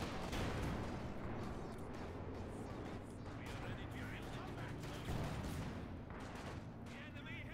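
Katyusha rocket artillery firing at retreating grenadiers in a World War II strategy game match, a dense continuous barrage of booming blasts and crackling fire that fills the whole stretch, with a commentator's voice running over it.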